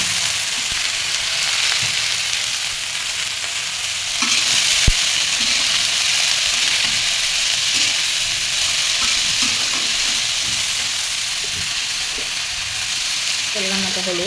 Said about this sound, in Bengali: এখন দিয়ে দিব সব কিছু, পেঁয়াজ, রসুন, তারপরে শিমগুলো দিয়ে দিলাম।